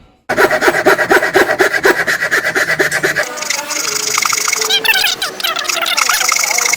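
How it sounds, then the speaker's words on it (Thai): A Japanese hand saw cuts through wood along a marked line in quick, even back-and-forth strokes, then shifts to a rougher, rasping rhythm, close and loud. "อันนี้ผมเลื่อยแบบทับเส้นเลยนะครับให้เส้นหายไปเลย"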